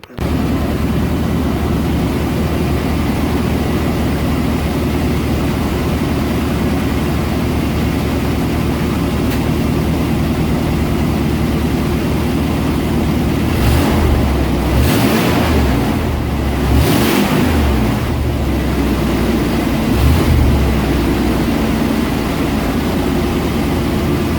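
A 1990 K1500 pickup truck with a new cheap exhaust idles with a steady, deep rumble and a broad noisy roar, swelling a few times midway as the throttle is blipped.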